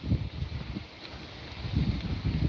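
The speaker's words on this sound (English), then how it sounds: "Plenty of breeze right now, that's for sure." Breezy wind blowing steadily outdoors on the Passadumkeag River in Maine, gusting in a low rumble against the microphone with surges near the start and end.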